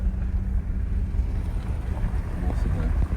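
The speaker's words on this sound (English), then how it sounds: "it's going to be pretty windy now still" Steady wind buffets the microphone in a continuous low rumbling roar, loud and close, with faint voices partly buried beneath it.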